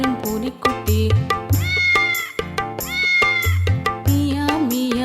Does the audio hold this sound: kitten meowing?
yes